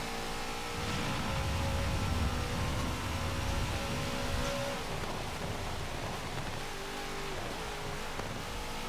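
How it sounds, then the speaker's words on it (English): Heavy rain hisses as a steady, loud wash in the Forza 7 racing game, nearly drowning out a car engine droning and shifting beneath it. "The rain sound is so loud."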